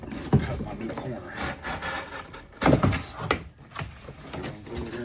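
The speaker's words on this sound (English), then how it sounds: "I'm going to go over here and cut this new corner." A blade cuts a new corner into a cardboard box being resized to pack a large skillet, giving scraping, rasping strokes with soft rubbing of the cardboard in a quiet room.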